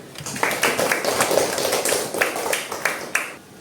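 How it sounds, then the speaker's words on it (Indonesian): A school class of children clapping hands at the end of a lesson on Hindu holy places, quick, uneven claps from a small group close by, rising into a brief ragged burst. "Tepuk tangan dulu"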